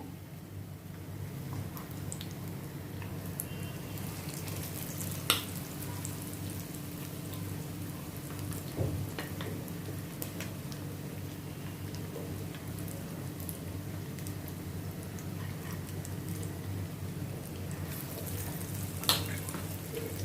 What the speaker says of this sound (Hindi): इन सभी को अभी मैं गोल्डन ब्राउन होने तक मैं फ्राई करूंगी, उलटते पलटते हुए